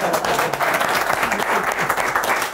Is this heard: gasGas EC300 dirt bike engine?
no